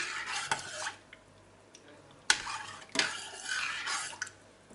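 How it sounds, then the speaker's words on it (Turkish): A spoon scrapes and clinks against a pot while milk is stirred into rice for rice pudding, in a few uneven strokes with short pauses between them. "1 litre sütümüzü ekleyelim. Karıştıralım."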